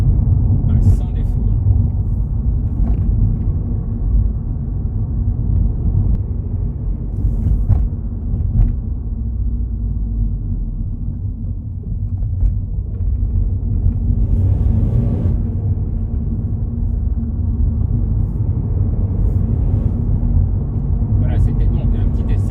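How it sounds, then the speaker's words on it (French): A Skoda Fabia 1.0 TSI 110 hp with a six-speed manual gearbox driving on the road, a steady close interior engine and road rumble that holds throughout, with faint clicks and speech low in the background. "un petit essai rapide de cette Skoda Fabia"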